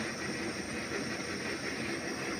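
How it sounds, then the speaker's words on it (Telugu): A steady, dense bubbling rumble of payasam liquid boiling in a pot, constant and close throughout. "మచ్చ బాగా మరుగుతున్నాయి"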